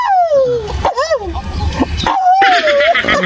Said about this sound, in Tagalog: Panay ang alulong na din.